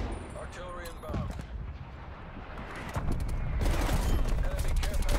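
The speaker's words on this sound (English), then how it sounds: "Artillery targeting detected. Right there. Artillery inbound." An artillery strike in Call of Duty Black Ops Cold War brings steady rumbling gunfire and explosions, swelling louder midway, while game voice lines and talk sound over the battle.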